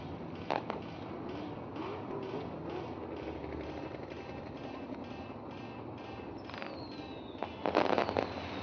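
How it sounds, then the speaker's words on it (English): Fireworks go off at Ohsweken Speedway, a dirt-track racing venue, as a run of distant crackling pops and thuds over a steady outdoor rumble, ending in a denser flurry of bursts. "We want to make sure we thank Lone Wolf Fireworks, helping us out with our fireworks each and every week."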